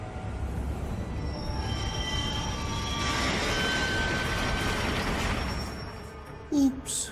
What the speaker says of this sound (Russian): Поезд времени подходит